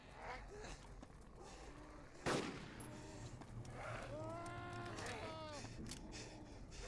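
Gunfire in the DayZ video game, a sharp loud shot followed by scattered quieter shots and game sounds, with a voice talking over much of it.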